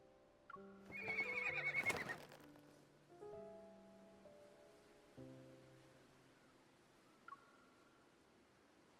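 A horse in the video game Love and Deepspace lets out a loud, close whinny followed by snorts and clip-clopping hooves, then quieter stamping and a few brief tones against a calm background.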